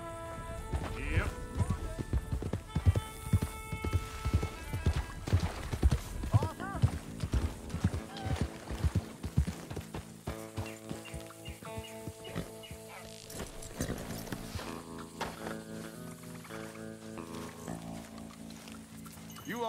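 Horse hooves clip-clop at a steady gait during riding in the Red Dead Redemption 2 video game, moderately loud at first and then fading under game music while characters talk.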